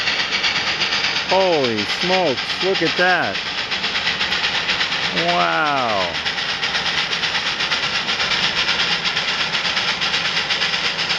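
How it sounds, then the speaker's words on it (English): A steam train rolls past close by with a loud, steady rumble and hiss that fills the whole stretch, while excited voices exclaim over it. "Here's the steam train."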